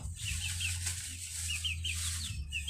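Native Darag chickens clucking and flapping in a pen, soft repeated calls over a low steady hum, fairly quiet and close throughout.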